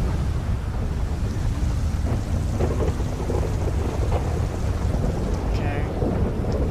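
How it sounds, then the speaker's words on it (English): Thunder rolling through a rainy storm in the GTA 5 video game, a steady low rumble with rain and wind hiss running throughout the clip, no voices. "Man, it's thundering."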